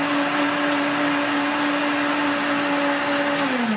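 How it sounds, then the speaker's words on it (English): A Homgeek 1450W countertop blender runs in high speed auto mode, its 2.25-horsepower motor giving a loud, steady whirring roar with a constant tone that dips slightly in pitch near the end. "Now this pro blender comes with a high speed auto mode, which you can select like this."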